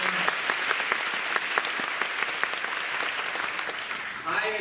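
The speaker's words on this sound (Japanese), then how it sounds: "ケンジとタマにもう一回拍手をお願いします" Sustained audience applause at a large business tour event in Tokyo, many hands clapping in a steady, fairly close patter that stops abruptly near the end as a voice begins.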